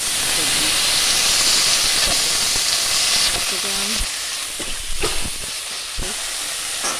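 Potato fries going into a hot frying pan with onion and chilli for home-style vegetable chow mein give a steady, loud sizzle and hiss that eases slightly after a few seconds, with brief clatters of utensils.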